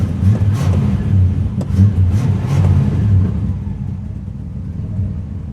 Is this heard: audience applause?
no